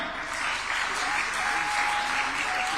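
A large crowd at a Shri Krishna event applauds the arrival of the Chief Minister, a continuous, thick roar of clapping that holds steady and loud throughout.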